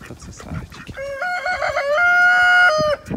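A rooster crows once, loud and near, a long stepped call ending abruptly, with soft clucking and rustling before it.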